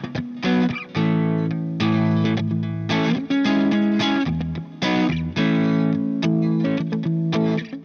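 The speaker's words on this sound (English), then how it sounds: "when you turn up the gain it will increase the distortion for more rock and aggressive tones" An electric guitar played through a Marshall Origin 20H amp with the gain turned up gives distorted chords and riffs in rhythmic bursts with short gaps, loud and up front.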